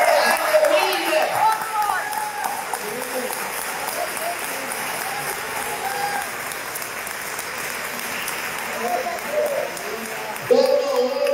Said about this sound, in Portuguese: Você pode aplaudir aqui?